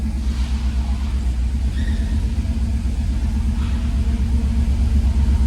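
A 1988 Chevrolet Monte Carlo SS drives off with a steady, deep engine rumble, close and loud throughout with mild revving.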